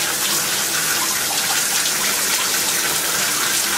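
Tap water runs in a steady, even gush while lips are rinsed during a dry-lip exfoliation routine, filling the whole moment with unbroken hiss and splash close by.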